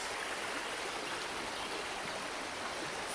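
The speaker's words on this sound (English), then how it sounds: "Just sitting upon a log as the water rushes." A stream rushes steadily past a log outdoors, a broad continuous hiss of flowing water at even loudness throughout, with no voices.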